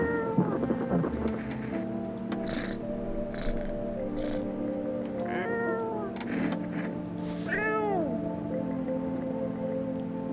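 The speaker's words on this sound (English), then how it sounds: "I have acquired the cat." A cat meows several times in the video game No, I'm Not a Human, the rising and falling calls standing clearly above a steady ambient background with no talking.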